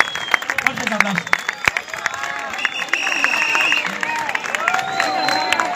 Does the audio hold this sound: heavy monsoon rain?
no